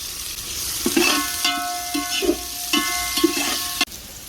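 Long-sliced onions frying for basmati biryani over a clay stove, a soft sizzle with repeated stirring scrapes and metallic clinks in an uneven rhythm, close by.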